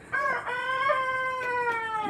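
A hen crowing like a rooster gives one close, drawn-out crow of about two seconds, heard clearly on its own with no talking.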